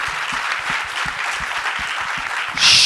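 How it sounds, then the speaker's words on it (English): Audience applause for panelists at a live SXSW event, sustained clapping from a crowd with a few close, sharp individual claps standing out, ending with a bright, louder swell at the very end. "if we could have a big round of applause for them"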